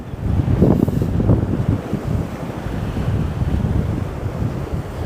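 Choppy sea waves wash and slap along the Northumberland coast near Dunstanburgh Castle, a constant rough surge mixed with gusts of wind buffeting the microphone, with no voices.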